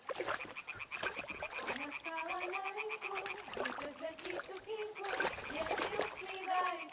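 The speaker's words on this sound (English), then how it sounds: "Throw a stone in the water near her to lure her away." Stone thrown into water in a PS5 video game, a splash amid game ambience with frog croaks and repeating chirping calls, while voices talk over it.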